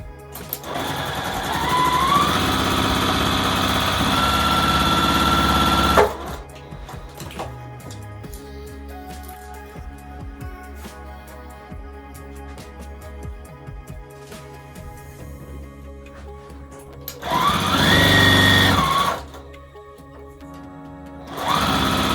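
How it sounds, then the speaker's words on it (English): A sewing machine runs in two loud bursts of fast stitching, about six seconds and then two seconds, as it joins small quilt pattern pieces with spacers into an acorn shape, with quieter rustling and handling of fabric in between. "So we'll sew both of those."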